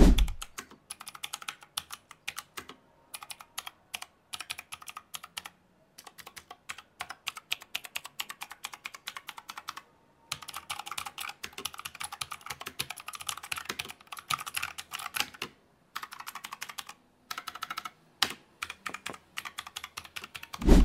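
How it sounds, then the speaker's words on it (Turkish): Rapid, clicky typing on a Havit KB890L mechanical keyboard with blue switches, bursts of keystrokes broken by brief pauses, close and crisp with no talking. "Klavyenin ses performansını mikrofona yansıdığı şekilde dinletmeye çalıştım."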